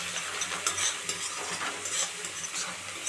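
Onions fry with salt in a pan for a home-style chicken lunch dish, a steady close sizzle broken by the scrape and clink of a utensil stirring, with no talking.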